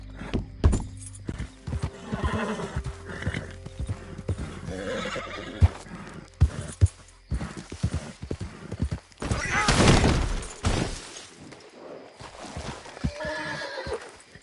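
Hooves of a horse gallop steadily in Red Dead Redemption 2, with loud whinnies and snorts breaking through the rhythmic clip-clop, close and busy throughout.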